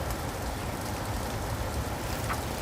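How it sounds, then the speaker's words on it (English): Steady rain falling outdoors at Flathead Lake, a continuous even hiss of drops with no voices. "the rain ruins everything"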